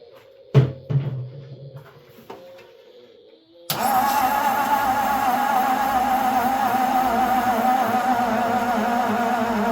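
A 1954 Ford engine with a dead battery is cranked, giving a few weak clicks and short starter bursts before a loud, steady cranking or running drone sets in and continues unbroken.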